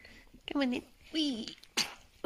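A newborn puppy lets out a tiny squeaky sneeze amid close, soft talk from a person tending the litter just after birth; brief snuffling sounds sit among the speech.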